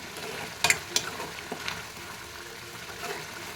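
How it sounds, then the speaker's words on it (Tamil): Gentle sizzling of okra sautéing in a pan, with a few clinks of a spoon stirring against the pan. "ஒரு ரெண்டு நிமிஷம் நல்லா வதக்கலாம் புளி தண்ணி ஊற்றின பிறகு"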